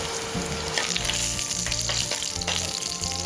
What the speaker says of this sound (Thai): หลังจากใส่น้ำมันลงไปแล้วนำกระเทียมนะครับ นำกระเทียมใส่เลยท่านผู้ชมครับ